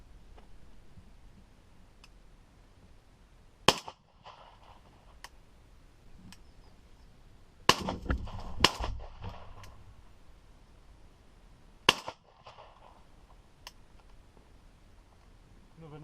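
Shotguns fire at pigeons coming in over decoys on a bean field, with several sharp shots spaced out over the stretch against quiet countryside, one pair fired in quick succession, and faint clicks and rustling in between.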